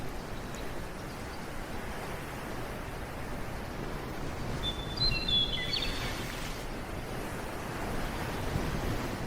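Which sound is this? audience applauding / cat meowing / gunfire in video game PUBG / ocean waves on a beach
ocean waves on a beach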